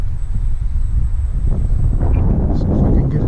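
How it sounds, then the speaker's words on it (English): Wind buffets the microphone outdoors on a December afternoon as a continuous low rumbling roar that swells and eases slightly. "wind's starting to pick up a little bit"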